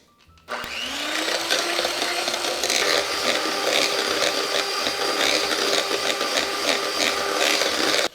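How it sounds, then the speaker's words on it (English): An electric mixer beating eggs with vanilla starts up abruptly and runs as a loud, steady whirring hum, with slight rattles against the bowl, continuing without pause or speech. "Now I'm gonna beat this until it's pale light yellow"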